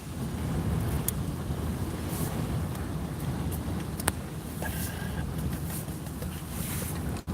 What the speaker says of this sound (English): This wind is crazy.